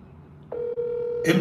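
Telephone line tone on a radio call-in broadcast, a steady single pitched tone that sets in partway through and holds, briefly dipping, with a burst of noisy sound at the end.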